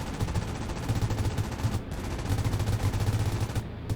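Twin .50 calibre machine guns on an aircraft in the combat flight game Nuclear Option fire in rapid sustained bursts, a dense booming rattle with a brief break midway, loud and steady.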